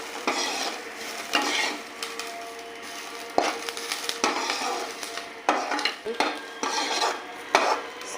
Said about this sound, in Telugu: లైట్ బ్రౌన్ కలర్ వచ్చేంత వరకు వేయించేసుకోవాలి